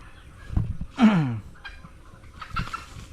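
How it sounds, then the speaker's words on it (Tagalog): Farmyard chickens cluck in a few short bursts, one louder, rising call in the middle, with a quieter cluck near the end against low background noise. "Ba't nakadami nakalabas na manok ngayon?"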